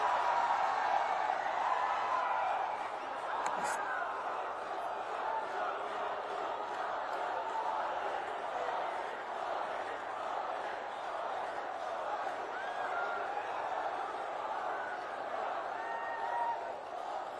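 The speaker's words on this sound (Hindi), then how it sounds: "तालियों की गड़गड़ाहट से स्वागत करें भारत के माननीय प्रधानमंत्री श्री नरेंद्र मोदी जी का।" A large crowd at a political rally for Prime Minister Narendra Modi in Karbi Anglong, Assam, makes a steady, dense roar of applause and crowd noise that holds evenly throughout, with a voice faintly audible within it.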